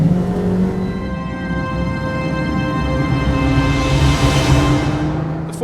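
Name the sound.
Ferrari 458 Challenge race car lapping Fiorano track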